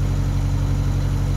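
Narrowboat diesel engine running steadily, a close, constant low-pitched throb with an even mechanical pulse and no other sounds.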